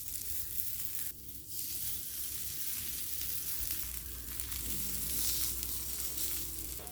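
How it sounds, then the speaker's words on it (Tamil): Sweet corn tikki patties pan-fry on a hot dosa griddle, giving a quiet, continuous crackling sizzle with a soft, even hiss and no voices. "இன்றைக்கி நான் பேன் ஃப்ரை தான் பண்ணுறேன்"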